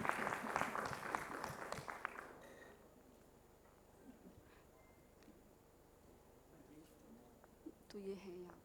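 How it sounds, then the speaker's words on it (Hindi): At a youth parliament gathering, the audience gives a brief burst of loud applause to welcome a guest minister. The clapping fades after about two seconds into quieter hall ambience, and a voice speaks softly near the end. "मैं सभी से चाहूँगी कि एक बार ज़ोरदार तालियों से उनका स्वागत करें।"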